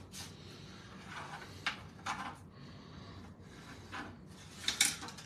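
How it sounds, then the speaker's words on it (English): A tool scores card stock along a ruler line for an easel card, with faint scraping rubs and small clicks coming in short uneven strokes, quiet and close. "I'm gonna kind of score it down like that."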